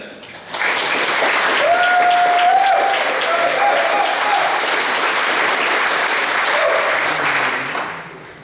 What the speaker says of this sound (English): if you can please give not polite applause, but a big cheer for the UK coordinator of Idaho, Mr. Derek Leonard.